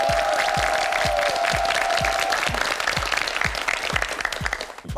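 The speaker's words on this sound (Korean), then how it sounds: "박수 보내주세요" A studio audience on a Korean quiz show claps in sustained, dense applause, loud and even throughout, with a brief tone sounding under it at the start.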